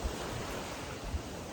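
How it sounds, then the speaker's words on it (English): Ocean waves crashing on the shore at Tulum, a continuous close roar of surf with a few low thumps of breaking water and some wind rumble on the microphone. "And just listen to these beautiful waves crashing around me."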